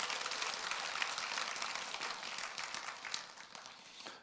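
A church congregation applauds a young drummer in a continuous, fairly soft wash of clapping that holds steady and fades slightly toward the end.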